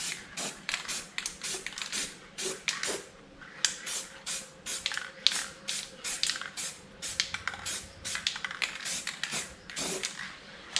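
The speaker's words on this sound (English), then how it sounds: "I'm going to spray a little bit of black spray." Repeated short bursts from a can of black spray paint onto a Ford Escort 1300 engine sump, hissing in quick uneven spurts with brief gaps, close by and fairly quiet.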